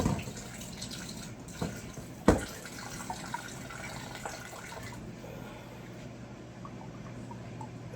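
Water running over vegetables being washed in a basin, a steady low splashing and trickling with a few sharp knocks, fairly faint and close, with no talking.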